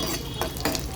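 Mustard seeds, cumin and dried red chillies sizzling in hot oil in a kadai for tempering, a brief close crackle with two sharper stirring scrapes.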